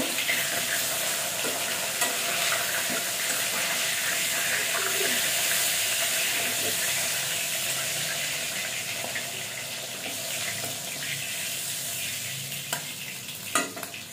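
Steady sizzling of fried fish being stirred with a spatula and scraped in a pan, continuous and close, with a couple of sharper clinks near the end.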